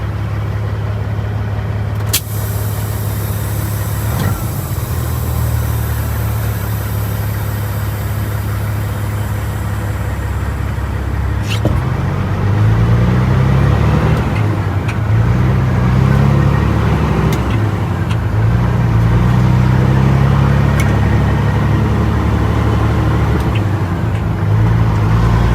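A Peterbilt 379 semi truck's engine idles with a low, steady, mellow rumble that runs continuously. Partway through it picks up slightly with a rougher, wavering tone, and there is no talking.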